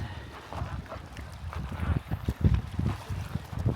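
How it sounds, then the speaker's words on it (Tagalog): Strong wind buffets the microphone at Upper Kananaskis Lake, Canada, in gusty, uneven rumbles, with low thumping bursts that swell and fade. "Oh, malakas ang hangin."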